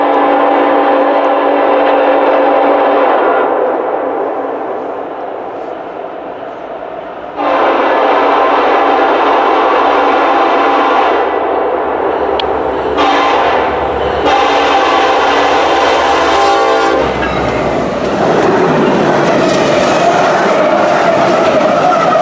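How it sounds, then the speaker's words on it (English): Freight trains rumble past loudly and continuously, with wheels squealing and a horn-like tone sounding over the steady roar of rolling cars. "let's sit back and enjoy as we watch these two exciting trains"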